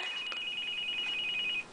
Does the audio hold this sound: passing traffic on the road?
no